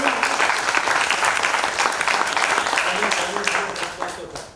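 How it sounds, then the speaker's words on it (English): Audience at a film-industry panel discussion bursts into dense, sustained applause that stays steady and close for about four seconds, then eases off slightly toward the end. "So round of applause for you."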